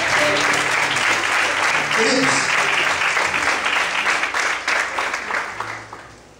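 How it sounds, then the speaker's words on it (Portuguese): A church congregation claps in praise to the Lord, with steady, dense applause filling the room and fading toward the end, while a voice speaks briefly over it. "Desocupe a sua mão, aplauda o Senhor e glorifique a Deus"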